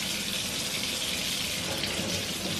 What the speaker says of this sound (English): I'm about to just run some water and let them sit